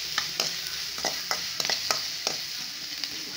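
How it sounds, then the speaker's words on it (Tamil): Onions frying with ground paste in a pan sizzle steadily while a spatula scrapes and taps in a quick, uneven rhythm, close and moderately loud, with no voices. "இப்போ வெங்காயம் ஓரளவுக்கு நல்லா வதங்கிடுச்சு"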